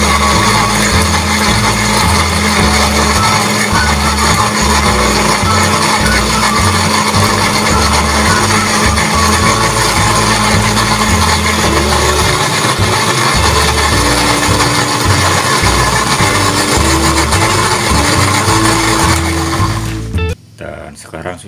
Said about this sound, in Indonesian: Kemudian selanjutnya kita blender.